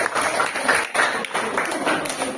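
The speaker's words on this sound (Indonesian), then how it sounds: "Oke, tepuk tangan untuk teman-teman ya." A classroom of students claps for their classmates, a steady patter of hand claps across the whole stretch with slight surges, fairly close and moderately loud.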